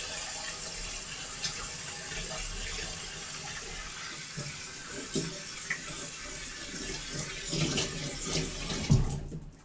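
Hands are washed under a running kitchen tap after cracking eggs, a steady stream of water splashing into a sink with small bumps and rubbing sounds, close and continuous.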